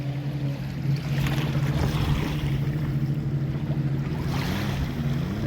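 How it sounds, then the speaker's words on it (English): Jet ski and pontoon boat on a lake, engines droning steadily with a low hum while their wakes wash and lap, wind buffeting the microphone throughout. "Got a jet ski making wakes and a pontoon making big wakes."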